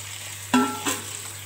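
Tomato paste with green chilies sautéing in a pan for chicken dum biryani, a low background sizzle broken by two quick scraping stirs close by.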